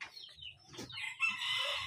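A rooster crows once in a short, strained call, fairly faint and heard alone without voices.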